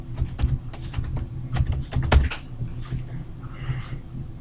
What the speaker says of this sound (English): What I'm going to do is just basically type in the same password that I did to actually enter the machine.